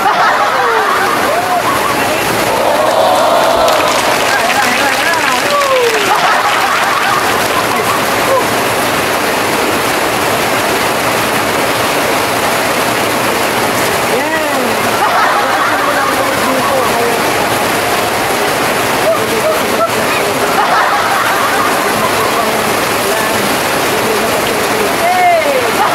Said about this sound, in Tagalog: napakasarap maligo sa ulan